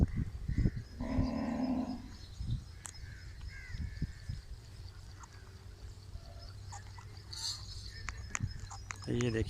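Cows on a cattle farm moo while eating feed, with a clear low moo near the start, chewing and shuffling noises, a crow cawing, and someone talking throughout.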